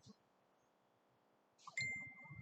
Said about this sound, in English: don't know why my phone is ringing.